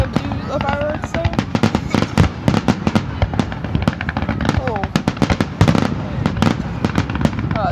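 Canada Day fireworks in Kelowna go off in a dense, loud rapid crackle of firecracker-like pops and bangs, continuous throughout, with people talking faintly underneath.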